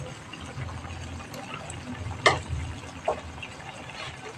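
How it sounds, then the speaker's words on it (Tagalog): Low, steady bubbling rumble of liquid boiling in a pot, with a couple of sharper pops breaking the surface. "Kumukulo na siya."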